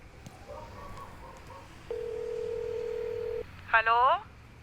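Telephone keypad dialing tones from a home phone: a long steady tone of over a second, then a quick burst of stacked beeping tones, heard over faint background murmur.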